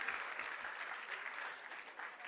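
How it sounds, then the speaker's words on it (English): Audience at a law school convocation applauds in a steady, dense wash of clapping that holds evenly throughout, heard from the crowd at moderate distance and fairly soft. "you all deserve a genuine round of applause"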